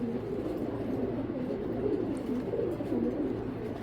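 A big female grizzle racing pigeon hatched in 2020 cooing, low throaty rolling coos repeating close by in an even rhythm.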